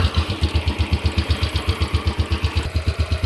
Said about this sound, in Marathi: आता मी तुम्हाला किक चालू करून दाखवतो